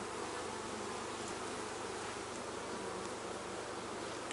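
Honey bees buzz in a dense, continuous drone from an open hive, a steady swarm hum close by with no voices.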